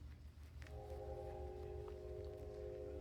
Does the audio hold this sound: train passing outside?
yes